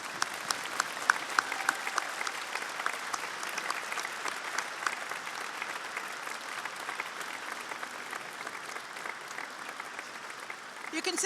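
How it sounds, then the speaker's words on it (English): Graduands at a University of Lincoln graduation ceremony give a long, sustained round of applause to their friends and family, many hands clapping steadily in a large hall for over ten seconds. "face your friends and family and give them a huge round of applause"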